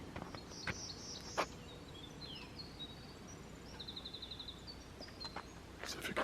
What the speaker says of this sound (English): See if you can hear the birds.